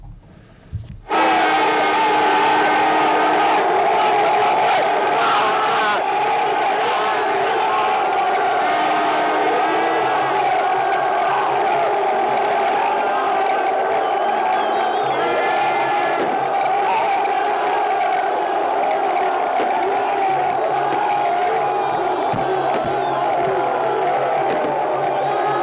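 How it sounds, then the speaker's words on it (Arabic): A large crowd celebrates in the streets of Tizi Ouzou after a national football team's cup win, a loud continuous roar of cheering, whoops and chanting voices with horns, sustained throughout at close range. "وبتيزي وزو خرجت الجماهير معبرة عن سعادتها وامتنانها لصنيع الخضر الذين"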